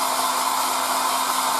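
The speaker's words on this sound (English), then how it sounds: "just grab an air dryer if you are using acrylic" A hair dryer blows steadily to dry acrylic paint on a 1:48 scale Hellcat Mk.I model interior, a loud, close, unbroken airy whir with a faint motor hum.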